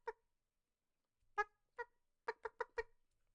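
A voice imitates the clucking of the chicken character from the animated film Moana, with a single squawk, a pause, then a quick run of rhythmic clucks, close and alone.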